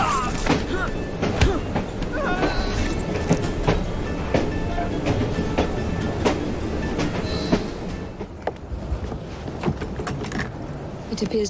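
A train runs in the video game Assassin's Creed Syndicate. Dense, loud rumbling and clattering rolls on steadily, with sharp metallic clanks and rattles breaking through. A faint voice is buried in the noise.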